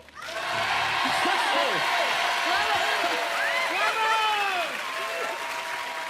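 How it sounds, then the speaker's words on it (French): An audience applauds steadily at a horse riding show, a sustained wash of clapping with whoops and raised voices mixed in. "quand ils ont applaudi pour Verino"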